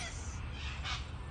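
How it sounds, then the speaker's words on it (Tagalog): Crows cawing in a park in Goulburn, New South Wales, a steady chorus of several birds calling over a constant background, rising into a louder burst near the end. "Ang daming ibon doon sa taas."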